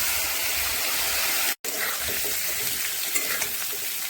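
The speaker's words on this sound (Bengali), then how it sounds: "এই দেখো ফুলকপিটা প্রায় ভাজা হয়ে গেছে" Cauliflower frying in a pan in a home kitchen gives off a loud, steady sizzle that fills the whole stretch, broken only by a momentary dropout.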